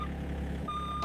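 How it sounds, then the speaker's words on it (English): Reversing beeps from heavy machinery in a farm setting, a single steady beep tone rising over a low rumbling engine idle. "Beep, beep. Heavy machinery coming through."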